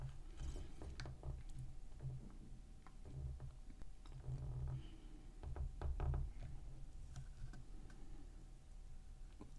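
A programming adapter is plugged into a socket on a Yamaha jet ski, giving a run of close, dry knocks and small mechanical clicks with plastic rattling over a low steady hum.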